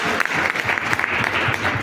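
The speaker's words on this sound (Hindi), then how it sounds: "तो उसके लिए ताली हो जाए 2000।" Audience applause at a business seminar, a thick, continuous burst of many people clapping together, loud and close, sounding like a full room.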